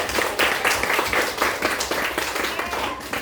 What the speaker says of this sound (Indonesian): Tepuk tangan dulu untuk Cynthia.